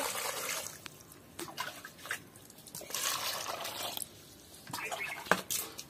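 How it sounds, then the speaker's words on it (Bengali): Picked wild teasel gourd leaves are washed in water by hand, giving intermittent close splashes, drips and sloshing in short bursts with quiet gaps between them. "এইবার আমি ধুয়ে নেব, ভালো করে ধুয়ে নেব।"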